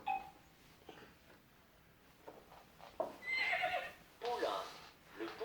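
Foal neighing from an educational interactive toy desk, a recorded whinny played through a small speaker in two loud bursts after a quieter stretch.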